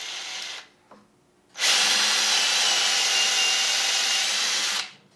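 A power drill fitted with a 13/64 drill bit bores a hole, first with a brief spin-up, then a loud, steady, close whine lasting about three seconds before it winds down.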